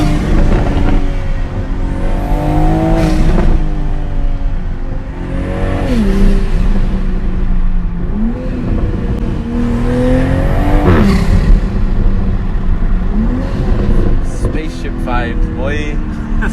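A Toyota Supra engine revving repeatedly while driving, rising and falling in loud sweeping pulls every few seconds over steady road and cabin roar, heard from inside the car.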